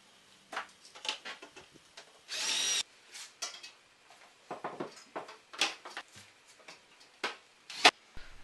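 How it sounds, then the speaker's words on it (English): A power drill screws a small piece of stud onto a horizontal panel in short, repeated whirring bursts with pauses between them, close and fairly quiet, plus one longer steady run. "Start off by screwing a small piece of stud onto the existing horizontal panel."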